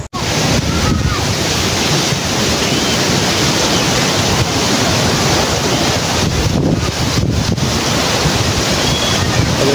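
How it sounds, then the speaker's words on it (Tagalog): Sea waves roll in under strong wind, a loud, continuous rushing roar with wind buffeting the microphone and no pauses throughout. "Yung dagat."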